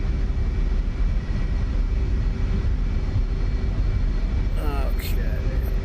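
An F/A-18E/F Super Hornet jet landing on a runway in the DCS flight simulator game, a loud, steady engine roar that holds throughout, with a brief higher whine near the end.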